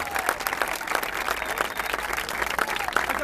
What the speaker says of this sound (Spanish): fuerte aplauso porque hoy fue alta fecha